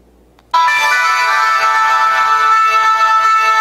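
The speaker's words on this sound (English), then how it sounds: "Ringtones, which is basically my music." A BlackBerry Storm 2 9550 phone speaker plays a ringtone melody, starting abruptly after a moment of near silence and then sounding loud, bright and continuous to the end.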